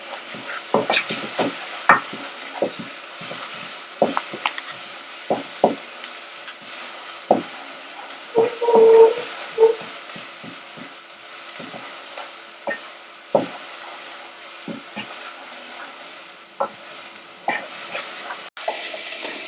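Onions sweating in a pan for salmon risotto, with a soft steady sizzle under repeated scraping strokes of a spoon. The stirring is close and rhythmic but uneven, and there is no talk.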